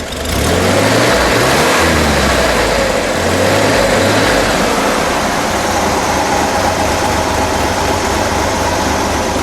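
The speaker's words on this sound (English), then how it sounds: "give it a rev" A 1965 Chevrolet Corvair Corsa engine with dual exhaust revs up in a few quick throttle blips, rising and falling in pitch, then settles back toward a loud, steady rumble.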